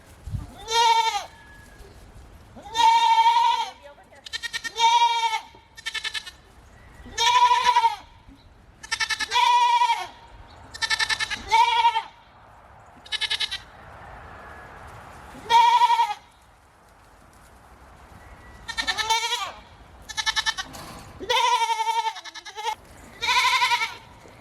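Goats bleat repeatedly and loudly up close, several animals calling in overlapping bursts with brief quiet gaps between cries.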